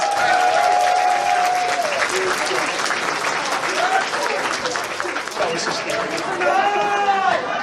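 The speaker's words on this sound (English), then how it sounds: "Guys, give them a round of applause!" Loud audience applause at a furry convention improv show, dense clapping filling the room with cheers and voices rising over it, including a drawn-out whoop near the start and more shouting toward the end.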